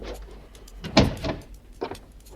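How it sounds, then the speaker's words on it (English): A door closes in an old-time radio horror drama, giving a single sharp thud with a short rattle after it, close and fairly loud, followed by faint shuffling. "Close the door."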